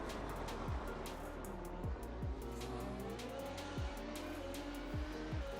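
Formula 1 cars in a racing video game at the Mugello circuit, with engines roaring steadily and a series of sharp tire squeals and downshifting whines under hard braking, repeating several times through a dense, loud mix of engine noise.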